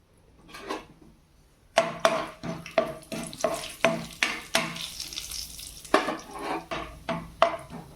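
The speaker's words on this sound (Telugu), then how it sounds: "శనగపప్పు మినపప్పు అయితే వేసేస్తున్నాను కాస్త ఫ్రై అవ్వడం కోసం" Chana dal and urad dal fry in hot oil for a tempering, with repeated sharp scraping and stirring strokes of a spatula against the pan in a steady rhythm over a soft sizzle, close and fairly loud.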